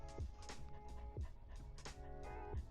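A dog pants rhythmically in hot weather inside an RV with no air conditioning, quick repeated breaths close to the microphone, steady and fairly faint with no talking.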